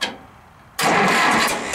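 A Massey Ferguson 35 tractor engine is turned over by the starter without firing. Quiet at first, then a loud, steady cranking roar sets in abruptly and carries on to the end, with no talk.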